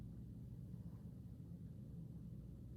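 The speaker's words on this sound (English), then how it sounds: "I still hear the car." A faint, steady low rumble of a car engine running in the background, a continuous distant drone with no distinct events.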